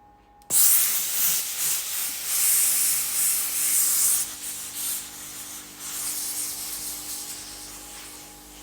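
A Tefal IXEO QT2020 steam iron starts abruptly with a loud, steady hiss of slow steam that holds close and constant, easing slightly partway through while a faint tone hums underneath.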